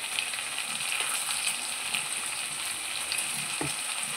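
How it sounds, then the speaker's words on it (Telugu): Ginger garlic paste fries in a hot pan of oil for a drumstick and tomato masala curry, making a continuous soft sizzle and crackle with a light stir near the end and no talking. "వేసేసుకొని పచ్చివాసన పోయేంత వరకు ఫ్రై చేసుకుందాం."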